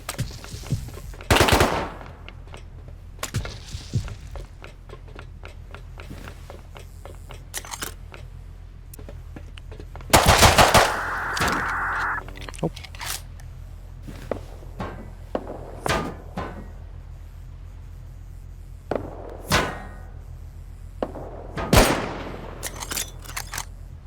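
Gunfire from a shootout in the game Rust: scattered bursts of rapid automatic shots and single loud cracks, some near and some farther off, separated by quieter gaps.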